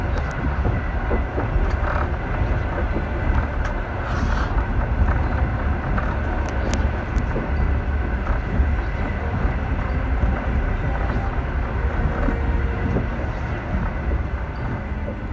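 A Trans-Siberian Railway train runs steadily on its rails through snowy Siberia, a continuous loud rumble with faint rhythmic clatter heard from inside the carriage, with no talk.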